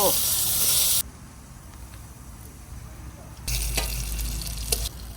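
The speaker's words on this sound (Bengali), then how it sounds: "আমাদের বেগুন ভাজা হয়ে গেল" Eggplant (begun) frying in a pan, a soft steady hiss with a louder sizzling burst near the end, heard close and without speech.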